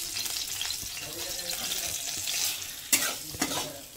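A paste of semolina and flour fries in ghee for langcha, a bright crackling sizzle with stirring scrapes and a couple of sharper knocks near the end, close up.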